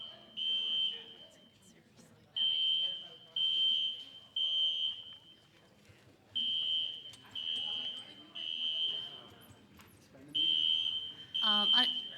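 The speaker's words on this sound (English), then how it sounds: "since the fire alarm went off" A fire alarm sounds in a meeting room during a board meeting, a loud, steady electronic tone in repeated bursts of about a second each with short gaps between them, over faint room murmur.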